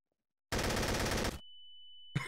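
Gunfire in the video game Trouble in Terrorist Town: one loud, rapid burst of shots lasting under a second, then a steady high tone and a final short hit.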